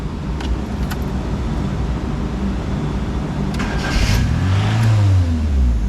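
A Fiat X1/9 with a freshly rebuilt carburettor and its timing being set cranks over under a steady rumble, then the engine catches and revs up in a rising drone close by, with no voices.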